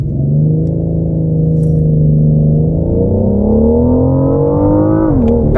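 A 2018 BMW M760Li with its 600-horsepower engine launches hard, the engine note climbing steadily in a loud, continuous rising drone before a brief shift dip near the end; no one speaks.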